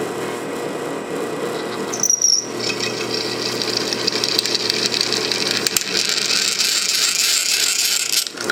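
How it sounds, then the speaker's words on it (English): A steady mechanical whine and grinding drone continues throughout, with a brief sharp high squeal early on, as a 5/16 drill bores through oiled metal on a Ford F100. "Got the 5/16 drill in here, so we'll see what we can do."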